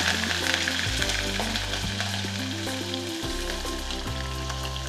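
Mustard seeds, peanuts and green chilli frying in peanut oil make a dense, continuous crackling sizzle that stays steady throughout, with background music playing underneath.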